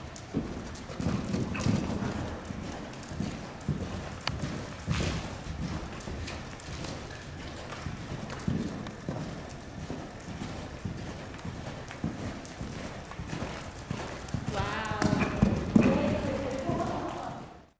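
Hooves clip-clop steadily on a hard floor as horses are led into a stable, a close, uneven rhythm of many hoof strikes lasting throughout, with some rustling and light wind noise.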